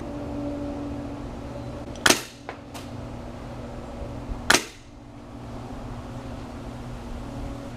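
A Polarstar airsoft gun at 130 PSI fires 0.12 g yellow Cybergun BBs: two sharp, loud pneumatic cracks a couple of seconds apart, each with a fainter follow-up snap, over a steady background hum.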